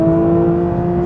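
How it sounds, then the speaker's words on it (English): A Porsche 992 911 GT3 Touring's 4-litre engine hums at a steady high pitch, heard briefly and loudly from inside the car. "the sound obviously from that 4-litre engine is absolutely fabulous"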